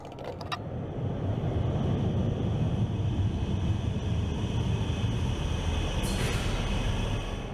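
A train rolls into a station in the video game Underground Blossom, a steady loud rumble of wheels and carriage noise throughout, with a brief high screech near the end.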